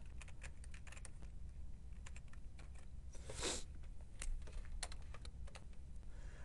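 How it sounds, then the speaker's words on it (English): Rapid clicking from a computer keyboard as text is typed into a document, with steady, irregular keystrokes close by and no voices. "any text that I type will be centered under that tab"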